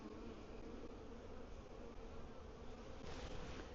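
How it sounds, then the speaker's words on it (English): A frame heavy with honeybees gives off a dense, steady buzzing drone, close and continuous, with a slight swell near the end and no voices. "It's heavy with bees."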